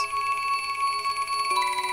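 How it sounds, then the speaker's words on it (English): Granular-mode Electroplankton sample playing sustained bell-like ringing tones with droplet textures, a steady shimmering drone whose pitch shifts once midway, played alone. "This sample has a lot of nice bell and kind of drip droppy sounds"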